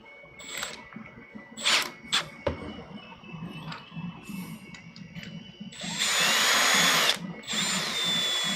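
A small power drill with a 2 mm bit whirs in short bursts, then spins up into a steady high-pitched whine for a few seconds, close by, with light clicks and handling noise between.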